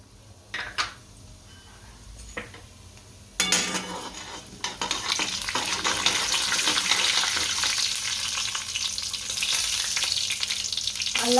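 Urad dal and cumin seeds hit well-heated oil and sizzle, starting as faint scattered pops with a few clinks, then bursting into a loud, steady frying hiss that holds to the end with no talk.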